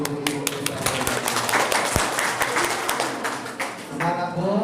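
Crowd claps for the village women at a large Islamic religious gathering, many hands clapping in a close, lively burst with talk over it.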